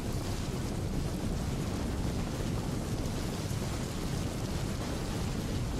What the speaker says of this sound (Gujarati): ધોધમાર વરસાદ પડવાથી રસ્તાઓ પાણી પાણી થયા